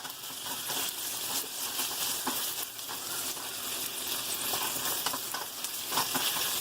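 Potatoes frying in a pan on medium heat for scrambled eggs and potatoes, a steady, dense sizzle with faint crackles and pops running throughout at an even level.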